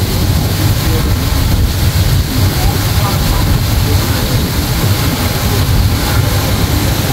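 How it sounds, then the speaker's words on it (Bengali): Passenger launches bound for Barisal pass on a river near Chandpur in heavy rain, making a loud, steady low engine rumble with a continuous broadband wash of water and rain throughout. "বরিশালগামী লঞ্চগুলো চলে যাচ্ছে।"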